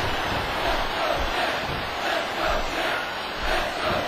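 A crowd cheering at a live wrestling event, a steady wash of many voices with gentle rhythmic swells, heard from a distance and fairly subdued.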